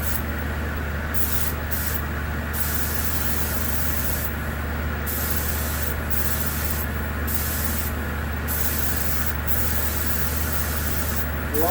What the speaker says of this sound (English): Alright, now we're going to go ahead and spray it.